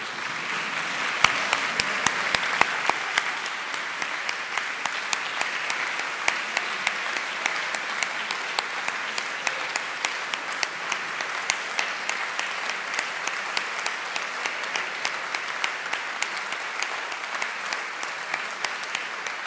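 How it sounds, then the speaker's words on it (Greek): Warm applause from a concert audience honoring composers at a piano recital, dense steady clapping that holds for the full stretch, with a brief louder swell near the start. "γιατί τους αξίζει ένα θερμό χειροκρότημα"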